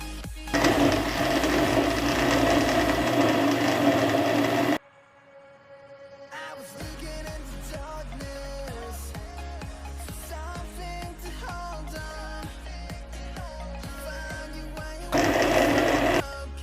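Electric grinder blending garlic with white vinegar and cooking oil into a paste, a loud steady motor whine in two long bursts separated by a brief pause, with clattering and mechanical rattle in between.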